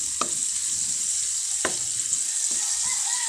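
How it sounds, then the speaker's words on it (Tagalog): Tilapia sizzles as it is sautéed in leftover frying oil, a steady bright hiss throughout. Three sharp scrapes and clanks of a utensil stirring in the pan punctuate it. "dito ko lang siya igigisa pa rin sa aking pinagprituhan"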